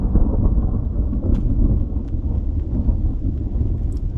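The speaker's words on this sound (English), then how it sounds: "So the storm has come. Can you hear that?" Thunder from a storm rolls continuously as a loud, deep rumble through the whole stretch, with wind buffeting the microphone in the outdoor setting.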